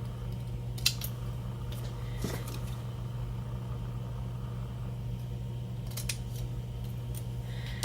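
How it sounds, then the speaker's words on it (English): Paper is cut with scissors for a handmade Laurel Burch-style card, giving a few short, crisp snips spaced over a quiet background with a steady low hum. "hopefully I can make a nice straight little snip here"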